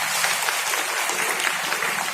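Sustained audience applause at a women's Corona warriors honour ceremony in Balotra, dense and steady throughout at close range with no speech over it.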